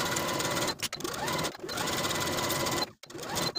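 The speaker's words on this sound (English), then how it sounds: "Then we'll sew each pocket to each side seam with a 3/8 inch seam allowance." A sewing machine stitches a skirt pocket to its side seam at a 3/8 inch allowance, running in steady whirring bursts with brief pauses between them, close and clear with no talk.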